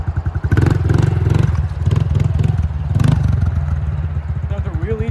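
A motorcycle climbing a hill on a chain-stress test, the engine loud and close with a steady labouring drone, clattering and mechanical rattle over the ride, and a brief rev near the end.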